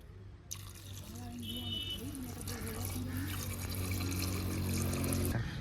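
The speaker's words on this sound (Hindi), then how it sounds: "ऐड करेंगे इसमें 800 ml पानी।" Water pours steadily into a metal pressure cooker, a continuous splashing rush that holds for several seconds before stopping abruptly.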